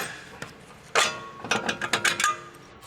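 Ratchet wrench clicking as it loosens the lower strut-to-knuckle bolt on a 2006-2011 Honda Civic, a 19mm wrench paired with a 17mm socket; quick bursts of close, sharp metallic ratcheting clicks follow a single earlier knock.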